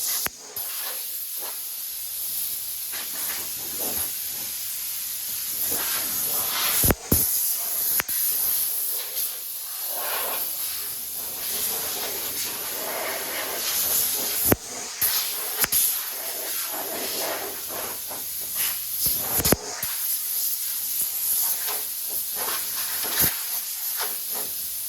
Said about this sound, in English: right now, I'm just gonna blow off all the dust